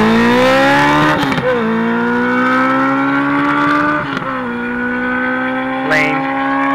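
A loud motorcycle engine revs and accelerates close by during a wheelie attempt, its pitch climbing in long pulls with brief drops at the gear shifts.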